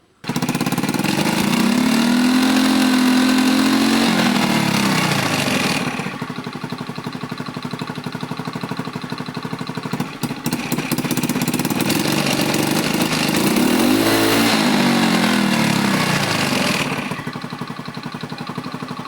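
A Honda Beat Fi scooter engine revs up under throttle, stuttering and straining as though lacking power, then drops back, then revs again in a second uneven, bogging burst; loud and close, with no voices.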